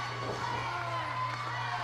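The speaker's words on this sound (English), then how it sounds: "The crowd getting behind Glacier, trying to will him back to his feet." A wrestling crowd at a live show cheers and shouts in a sustained roar, with a commentator talking over it.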